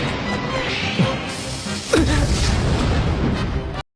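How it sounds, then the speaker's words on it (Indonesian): Dynamite explosions in an anime fight scene striking an enemy, loud booming crashes with a sharp impact near one second and a heavier blast at two seconds, followed by a dense rumbling roar that cuts off abruptly. "Merasa serangannya nggak cukup, Hayato lalu meledakkan banyak dinamit yang mengenai Chikusa dengan sangat telak"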